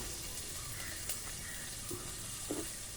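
Crushed ginger, garlic and shallots for a sardine fish curry sizzle in a pan: a faint, steady frying hiss with a few small pops and crackles.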